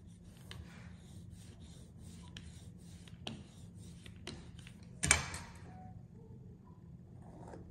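A tool cuts away excess from a clay slab being shaped into a round-bottomed cup. Quiet, close rubbing and scraping strokes come at an irregular pace, with one firmer scrape midway.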